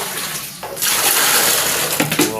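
Water pours from a bucket for dogs to drink, a sudden loud splashing rush that starts partway in and continues steadily, close by, with a few gurgles toward the end.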